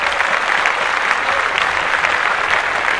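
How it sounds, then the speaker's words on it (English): Steady applause from a studio audience fills the whole stretch, dense and even, with no voices standing out above the clapping. "Clap that up."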